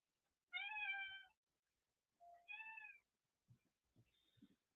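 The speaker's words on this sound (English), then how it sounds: "My cat just entered." A house cat meows indoors on a plantation tour, two clear tonal meows in succession, close and fairly loud, followed by faint thumps and rustling.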